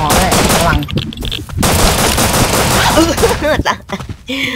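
Gunfire in the survival game Rust, loud rapid bursts of automatic shots in dense volleys with brief gaps, close and dominating, with a voice shouting over parts of it.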